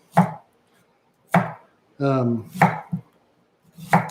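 A knife rough-chops onions on a board in a few loud, close, separate strikes spaced about a second apart, with a brief voiced sound between them.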